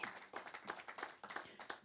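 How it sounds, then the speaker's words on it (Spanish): A church congregation claps together during a Spanish-language service, the hand claps falling in an even rhythm that sounds faint and distant. "Denle un aplauso al Señor en esta mañana."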